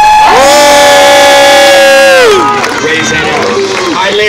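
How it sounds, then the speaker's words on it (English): At a New Orleans street theater show, a long, held shouted tone gives way to a crowd erupting in cheers and noisy hubbub. "Give this kid a big round of applause."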